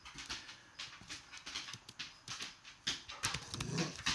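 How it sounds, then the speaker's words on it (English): A pet dog named Lois makes soft, intermittent whimpers and small sniffing or pattering noises indoors, faint and close, in short irregular bursts. "Excuse my dog."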